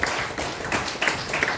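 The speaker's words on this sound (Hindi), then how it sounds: "चलिए मैं के लिए एक जोरदार ताली हो जाए।" Audience applause, a brief burst of clapping from a small crowd at an indoor gathering, with a few louder claps standing out.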